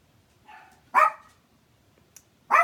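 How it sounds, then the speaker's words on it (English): A dog barks twice, sharp and fairly close, with a softer whine-like yip before the first bark and quiet pauses between. "You don't need to bark. People can hear you down the street."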